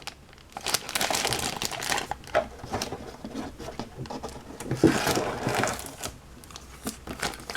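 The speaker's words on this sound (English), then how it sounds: "We have one plastic bag containing all the parts" A plastic bag holding the parts of an AFV Club Berlin Wall model kit crinkles and rustles steadily as it is handled close by, with no talking.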